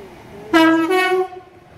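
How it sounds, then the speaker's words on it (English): A Class 390 Pendolino train passing through Leyland station sounds a loud, close two-tone horn, a brief high note followed by a lower one, lasting under a second. "Oh, it's the Pendolino as well. So passing through is a 390."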